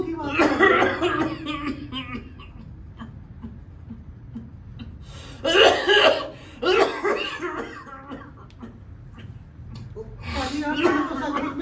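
Bursts of coughing come in several fits, with quieter stretches of talk and background noise between them.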